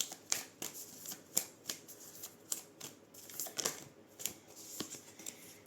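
Tarot cards shuffled by hand in a steady run of crisp riffling flicks and soft slaps, close up and moderately quiet, with no talking over them.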